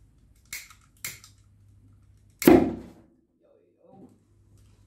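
A homemade paper tube cannon fires a foam ball with one sharp, loud pop, preceded by two quieter clicks from the igniter and followed by near silence.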